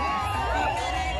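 Large crowd murmuring and chattering in a stadium at an India vs New Zealand cricket match, a steady dense babble with a faint cheer rising through it, loud and continuous for the whole moment.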